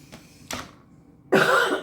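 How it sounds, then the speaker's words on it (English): Two short, soft coughs followed by a louder, harsher cough from an adult in a home kitchen, close to the microphone. "I still can't get rid of this cough."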